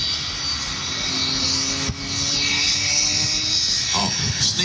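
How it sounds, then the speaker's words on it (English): A roaring jet engine on the Smoke and Thunder jet truck at an airshow in Vidalia, Georgia, a loud continuous broadband blast with a brief dip midway, heard from a distance with crowd-like ambience. "Smoke and thunder jet truck."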